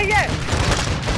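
Gunfire in Call of Duty: Modern Warfare 2 during a campaign firefight, a dense burst of shots mixed with game effects and a rising tone, loud and close for about a second.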